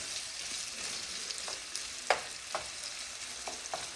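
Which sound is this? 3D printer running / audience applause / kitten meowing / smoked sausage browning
smoked sausage browning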